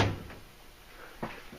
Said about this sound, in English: I'll close the doors on this one.